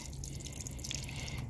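Excess water trickles and drips steadily from a seed tray lined with a moist capillary mat after being poured off, a faint, close, continuous patter with no talking.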